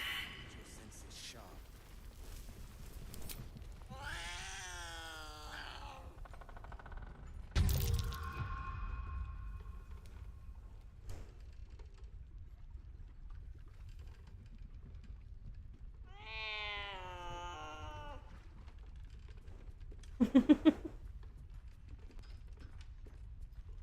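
A cat meows in the Baldur's Gate 3 video game, giving a few drawn-out, wavering cries spread apart among quiet gaps, with a sharp clatter partway through and a brief crack near the end.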